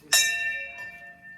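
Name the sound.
temple bell rung at Mahadev temple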